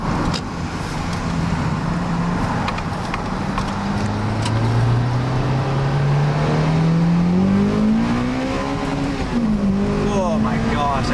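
A Toyota Celica GT-S on new wheels and tires accelerates hard, its engine note climbing steadily in pitch through the gears as a loud, close, sustained roar, with road noise beneath.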